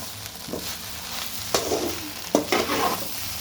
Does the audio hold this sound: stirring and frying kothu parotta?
yes